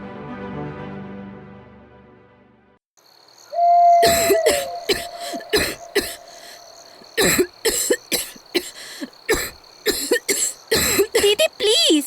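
A girl coughs repeatedly in a home, with a run of harsh, close coughs and throat clearing that come in uneven bursts after a quieter opening stretch.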